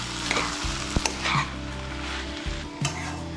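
A spoon stirs banana flower curry with fried fish head and potato in a pan, scraping and clinking in bursts over a steady close sizzle, with no talk.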